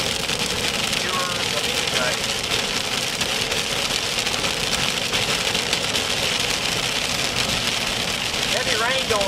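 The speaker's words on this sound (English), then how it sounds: "Heavy rain going on in Oklahoma City now." Heavy rain falls in Oklahoma City during severe thunderstorms, a dense, loud, continuous hiss and patter with a low engine idling underneath.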